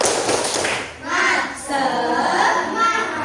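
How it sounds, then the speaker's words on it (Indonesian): Students in an Indonesian primary classroom do the rhythmic 'tepuk semangat' clapping chant. A quick patterned burst of claps opens, followed by young voices calling out together. "Tepuk semangat."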